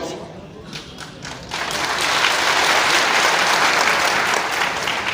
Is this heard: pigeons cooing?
no